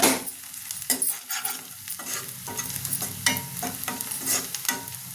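Onions frying in a pan for chicken curry, a close sizzle broken by repeated scraping and stirring strokes of a spoon at an uneven rhythm.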